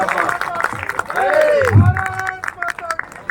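A Hindi patriotic speech event where the audience bursts into applause and cheers, a dense wash of clapping under a loud rising voice with a tonal swooping cry in the middle.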